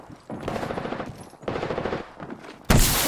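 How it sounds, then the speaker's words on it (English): Gunfire in the video game Apex Legends, rapid automatic bursts rattling close and loud, two separate strings of shots with a short pause between them, then a sharp heavy blast at the end. "Shots fired and they're hitting me."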